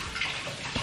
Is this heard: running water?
yes